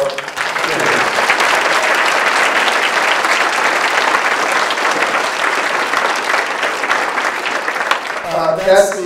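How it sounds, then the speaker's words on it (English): Guests at a formal alumni awards dinner give a final round of applause, a loud, dense, sustained wash of many hands clapping together, tapering near the end as voices rise. "let's have one last round of applause for all of our guests"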